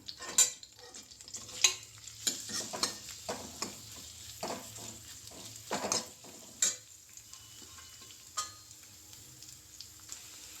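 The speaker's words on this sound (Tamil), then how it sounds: "இந்த எண்ணெயிலே வெங்காயம் பச்சை மிளகாய் போட்டு வதக்கிக்கலாம்" Onion and green chili sautéing in oil for capsicum sambar, with a quiet steady sizzle under repeated scraping and stirring taps of a spoon in the pan, close by and without talk.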